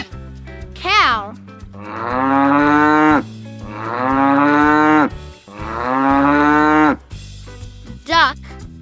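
Three long, drawn-out cow moos follow one another over a steady bouncy music backing, loud and close, with a short voice at the start and end.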